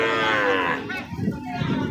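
Sahiwal heifer calves and cattle at a livestock market, one close loud moo that fades out, followed by a brief burst of background market noise.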